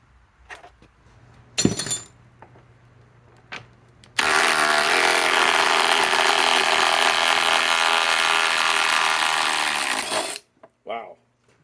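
Metabo HPT WH18DDX impact driver, rated around 1,200 inch-pounds and fitted with a flex battery, hammering out a lag bolt in one loud, sustained rattling burst of about six seconds, preceded by a few clicks and knocks, with no talk.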